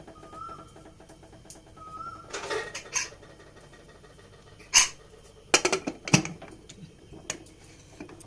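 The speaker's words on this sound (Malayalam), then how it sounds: "നമുക്കിത് കുക്കർ മൂടി വെച്ചോളൂ" A pressure cooker lid is fitted and closed on a pot of potato curry, giving a few sharp metallic clanks and clicks with brief rattling between quieter pauses, close by.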